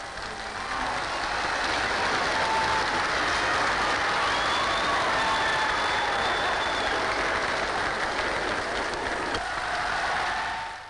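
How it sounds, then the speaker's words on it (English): A large crowd gives Lord Louis an ovation on his drive to the Mansion House, sustained loud applause and cheering that holds steady for about ten seconds before dropping away at the end. "he received a great ovation on his drive to the Mansion House"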